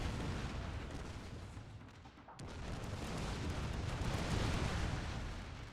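Musket volleys and gunfire rumble continuously in the Shogun 2 Fall of the Samurai battle game, a dense, loud wash of distant rifle fire and booms that dips for a moment and then swells again.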